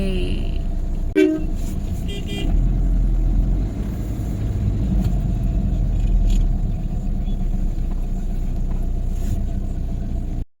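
Loud, steady road traffic rumbling in the rain, with one short car horn toot early on and a continuous engine drone throughout, heard from nearby without speech.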